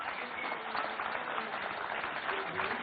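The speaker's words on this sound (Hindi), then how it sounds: "तो ये तो स्टूडियोज की तालियों की गड़गड़ाहट है" Studio audience applause on a Hindi TV debate show, a steady wash of clapping at a constant level with no breaks, partly masked by crowd noise.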